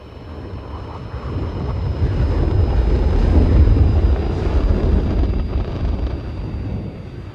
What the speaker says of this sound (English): they changed jet sounds, so I'll let this guy go over so he doesn't blow our ears out